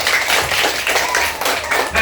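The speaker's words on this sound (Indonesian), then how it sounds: "Oke, tepuk tangan dulu anak." An Indonesian classroom of children, in a lesson on electric motors, breaks into a burst of brisk, scattered clapping that fills the whole short moment, close by and fairly loud.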